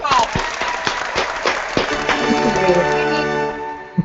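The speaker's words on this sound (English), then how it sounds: "where's that applause?" An online hangout audience claps and cheers in a brief burst, scattered claps mixed with loud overlapping voices and laughter that fade toward the end.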